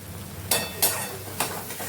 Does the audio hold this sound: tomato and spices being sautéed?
yes